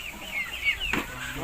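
Chickens in a garden farm in Kanyakumari give a few soft clucks and a brief call, faint against quiet outdoor background, with a short burst of sound near the middle.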